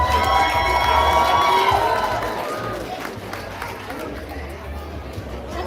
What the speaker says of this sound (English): I want y'all to give it up one more time for Royce Hawkins.